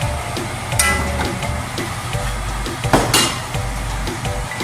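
White onions tossed into a big pot of deer onion stew, giving a few close clinks and clatters of pot and utensil over a steady kitchen background, with no talking.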